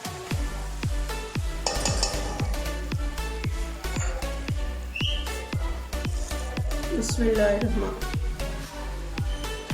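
Chicken jalfrezi scraped and dished out of a pan, a long run of regular metallic spoon scrapes and clinks against the pan, close and steady, with a low burner hum underneath.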